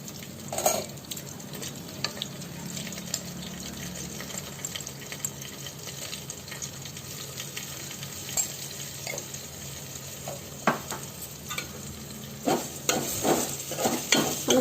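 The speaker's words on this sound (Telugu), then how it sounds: "నువ్వులు వేసాక ఎక్కువసేపు వేయించక్కర్లేదండి, ఇందులో వేడి ఆల్రెడీ ఉంటుంది కాబట్టి" Sesame seeds frying in a hot pan for Telugu ridge gourd chutney, a soft steady sizzle with faint stirring and occasional clinks of a spoon, louder scraping bursts near the end.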